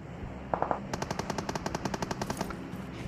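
Rapid automatic gunfire in the mobile battle royale game PUBG Mobile: a short burst of three shots, then a steady stream of about fifteen evenly spaced rounds, loud and close, with no talk.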